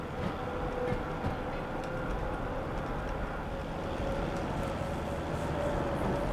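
A train running in the Derail Valley railway simulator game, a steady low rumble and rolling rail noise with faint clattering, continuous and moderately loud throughout.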